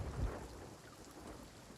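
A thunderstorm in Sea of Thieves brings a low thunder rumble at the start over steady, quiet rainfall that continues throughout.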